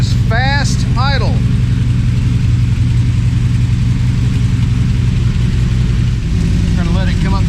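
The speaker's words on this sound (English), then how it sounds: "Okay, that is fast idle." Corvette C3 V8 with glass pack side pipes holding a steady fast idle around 1400 RPM, a loud continuous low rumble throughout, with brief voices and chirpy sounds near the start and end.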